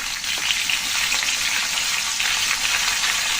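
Vegetable stalks and papaya with a little turmeric fry in a pan after potatoes, a loud, dense, continuous sizzle and crackle with no talk over it.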